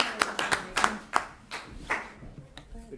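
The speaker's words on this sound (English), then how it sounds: "Good clap." A small group claps at a city council meeting in the council chamber, making a short burst of uneven, fairly close hand claps that thins out and dies away toward the end.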